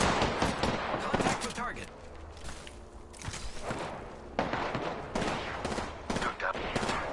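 Video game gunfire crackles in rapid bursts and repeated shots, loud and close, with a brief lull mid-way before more volleys; a voice speaks briefly over it.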